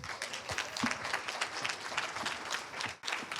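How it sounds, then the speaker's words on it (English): An audience welcomes a speaker onto a conference stage with steady, dense applause, many hands clapping at once from a moderately distant crowd, continuous for a few seconds without voices over it. "Ladies and gentlemen, applause for Stoyan"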